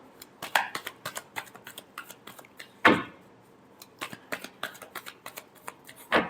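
Tarot cards are shuffled up close in a quick run of crisp riffling bursts, with one louder slap partway through and another near the end.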